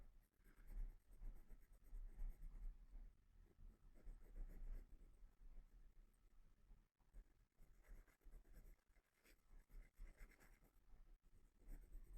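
A colored pencil scratches across paper while shading a drawing of a shark, soft quick strokes in uneven bursts, close and quiet with no talk.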